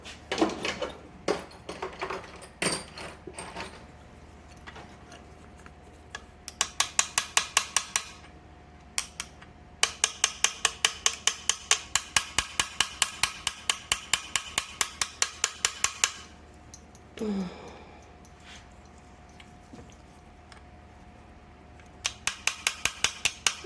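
Repeated metal-on-metal tapping on a stuck part of an 1883 Singer Improved Family sewing machine, arriving in fast rhythmic bursts of sharp knocks with short pauses between them and a brief scrape partway through, close and fairly loud.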